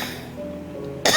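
A single short, loud cough near the end, following a quiet stretch of room tone.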